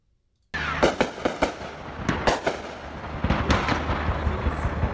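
Gunfire plays back from a video clip: a rapid string of sharp, loud cracks and bangs bursts out of silence, some clustered, some spaced, over a continuous noisy background.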